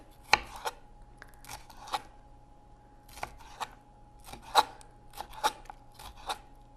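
A kitchen knife slices the pale ribs out of red bell peppers on a cutting board, giving a string of crisp, separate cuts and taps, close and fairly quiet.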